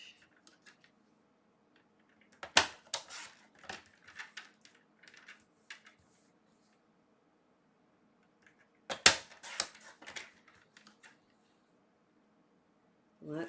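Scissors or a paper cutter slicing a sheet of craft paper into half-inch strips, heard as two quiet clusters of short crisp snips and crunches separated by a pause, with faint room background between.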